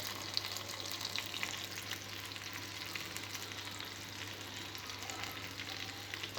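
Green chillies fry in a pan for pachi mirchi pachadi, giving a steady, dense sizzle that carries on without a break at a moderate, close level. Nobody speaks.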